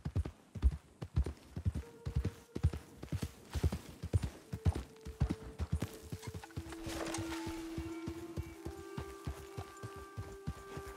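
Horse hooves clip-clop steadily across ground in Red Dead Redemption 2, a close, rhythmic walking gait with sharp distinct strikes, joined midway by a sustained tonal hum and a brief whinny-like cry.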